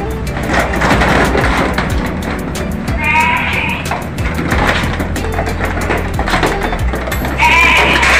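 Goats in a farm pen at feeding time bleat repeatedly, several loud calls rising over a constant rumble of background noise and shuffling.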